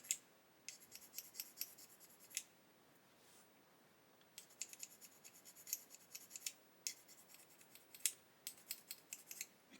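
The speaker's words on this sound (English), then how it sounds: "that is the beauty of using the glass file rather than a sanding stick" Glass file rasping across a plastic part from an Airfix 1/48 Gannet model kit, heard as short bursts of dry scraping strokes in close, quiet, uneven groups with brief pauses between.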